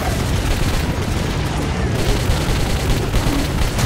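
Dense, loud gunfire from the video game Metro 2033 keeps up without a break: overlapping shots and bursts stacked into a constant roar, with a voice faintly mixed in.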